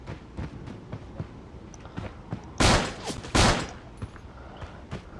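Gunfire in the shooter game Creative Destruction: scattered light shots, then two loud bursts close together, over quiet game background.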